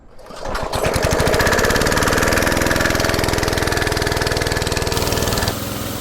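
A small gasoline engine is pull-started by hand, sputters to life and settles into a loud, steady, rapid chugging idle that runs on without pause.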